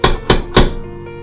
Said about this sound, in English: and it is a door knock.